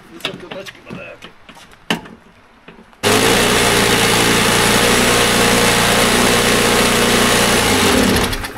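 After a few seconds of people talking, a lawn mower engine standing on concrete starts and runs with a loud, steady, buzzing hum, with loose front bolts and uneven wheels, continuing right up close until it cuts out at the end.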